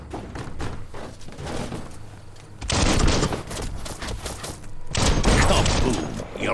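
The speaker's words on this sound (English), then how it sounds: "Shoot it and watch it blow." Barrel shot and bursting in Biomutant, with loud game gunfire and blasts in two heavy bursts around a staccato stretch of shots, punchy and near.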